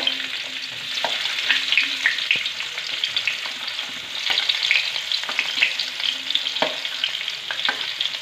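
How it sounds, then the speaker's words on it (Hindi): Garlic and onion frying in a pan in a home kitchen, a loud, continuous crackling sizzle with faint scrapes and clicks of stirring throughout, no voices. "तो अब मैं इसमें लहसुन डाल दूँगी और इसके बाद मैं इसमें प्याज ऐड कर दूँगी।"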